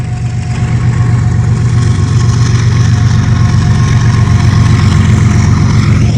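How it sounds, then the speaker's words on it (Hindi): A heavy goods vehicle engine rumbles loudly and steadily nearby, a deep continuous drone with no voices. "गाड़ी का शोर आता है ज़्यादातर इंजन का होता है"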